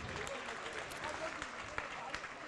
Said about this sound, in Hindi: तालियां बजाकर अनुमोदना।